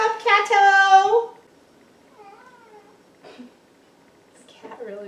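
A house cat meows loudly and close in a long drawn-out cry, followed by a couple of softer, shorter meows in a quiet kitchen during cookie baking.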